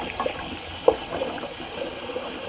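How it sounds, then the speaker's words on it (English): Tap water running over a Semogue 830 boar shaving brush, a soft, steady trickle with faint splashes close by and no one talking. "Just gonna run the water real quick on my Semogue brush."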